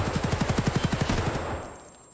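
A rapid burst of automatic gunfire in Escape from Tarkov, roughly a dozen evenly spaced shots in quick succession, then a fading echoing tail.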